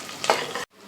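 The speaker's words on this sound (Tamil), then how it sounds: "வெங்காயத்தை நல்லா வதக்கிக்கோங்க." Chopped onions sizzle and are stirred in a pan after mustard seeds have popped, during a one-pot tomato rice preparation; a brief, close hiss of frying, then a sudden cut to quiet.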